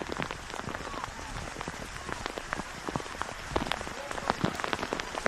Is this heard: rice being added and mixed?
no